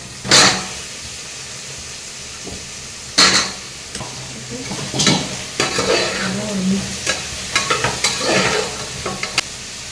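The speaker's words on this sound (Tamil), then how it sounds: "வெங்காயம் தக்காளி நிறையலாம் வதங்கலாம்." Onions, tomatoes and goat trotters sizzle and are stirred in a pan, with sharp scraping strokes at intervals and a steady frying hiss underneath.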